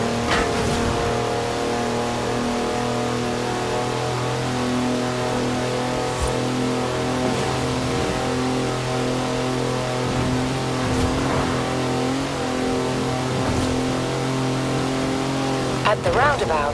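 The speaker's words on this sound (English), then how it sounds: "That's a 4-wheel drive car on mud tyres, completely sideways." A 4-wheel drive car on mud tyres drifts completely sideways in Forza Horizon 4, its engine holding a steady revving drone with sustained pitch under continuous commentary and background game music.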